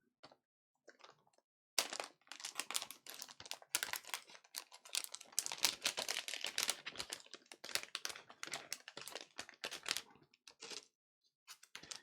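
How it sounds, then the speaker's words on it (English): Stickers being peeled off a new Dell XPS 13 7390 laptop make a run of sharp crackling, crinkling rips, close and fairly loud, in dense bursts with short pauses. "Just have to get these stickers off."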